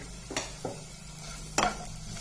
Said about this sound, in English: You fry the onions until it turns into